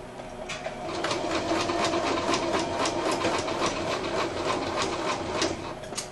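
Sewing machine running a straight line of stitching across fabric placemats, a steady fast mechanical rattle of needle strokes lasting several seconds, close and clear with no talking.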